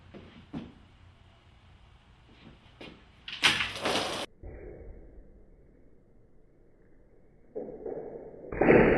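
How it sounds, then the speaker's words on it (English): Storm-preparedness doors installed after Tropical Storm Allison at UT Houston are tested, giving a series of knocks and thuds and then a loud sliding rumble and a heavy close. A final clunk lands near the end, with no talking. "testing out the weather preparedness doors that have been put in place since Tropical Storm Allison"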